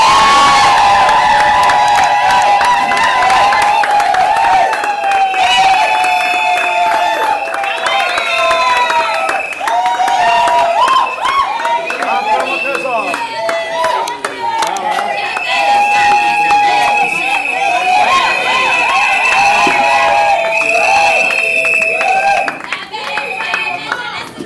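A wedding crowd claps and cheers loudly and steadily for the groom Trésor at a civil marriage ceremony, with whoops and voices mixed through the sustained applause.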